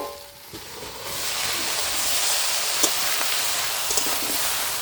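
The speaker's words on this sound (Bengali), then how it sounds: "কাঁকড়া কিন্তু খুব সুন্দর করে ভাজা ভাজা করে নিচ্ছে" Crab frying in a pan with vegetables sizzles loudly and continuously, rising after a quieter first second, with a few small pops and stirring clicks scattered through it.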